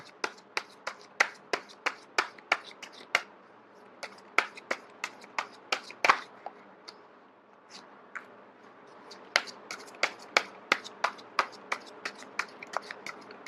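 Tarot cards are handled and shuffled close by, producing a quick series of sharp, crisp snaps and taps in uneven bursts with short pauses between them.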